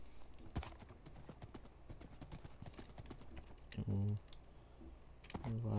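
Hoofbeats clop quickly and steadily as a horse is ridden in Minecraft, close and fairly quiet, with a couple of short whinnies near the end.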